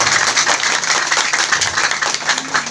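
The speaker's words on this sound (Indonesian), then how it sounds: "Tepuk tangan lah stelo." An audience claps at an evening randai performance event, producing dense, continuous applause that holds steady with slight fluctuations throughout.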